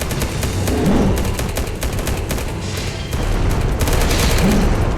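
Rapid gunfire and booming weapon blasts in the Cyber War: Cyberpunk Reborn mobile action game during a boss fight, continuous and loud with dense bursts throughout.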